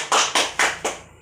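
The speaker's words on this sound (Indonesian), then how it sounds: "Silakan berikan tepuk tangan untuk kelompok 2." A class applauds a student group after its presentation with four crisp, evenly spaced claps in unison, loud and close, each ringing briefly before the next.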